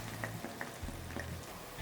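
Chirote pastry fries in hot oil, a steady soft sizzle with small crackling pops throughout, close and continuous with no talk.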